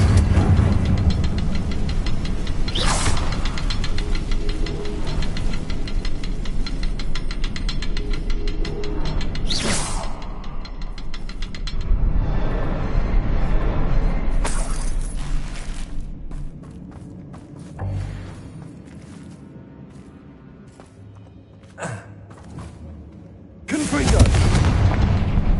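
Spell blasts and explosive booms from a fire curse in the video game Hogwarts Legacy sound over dense game music and rumble, with several sharp bursts spaced across the stretch, including one near the end.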